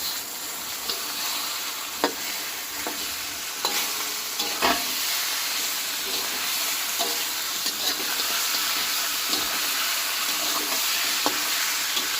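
Chicken pieces, washed earlier and clumped together, frying with browned onions in a hot kadai for a chicken and potato curry, a steady close sizzle with stirring scrapes and clinks throughout.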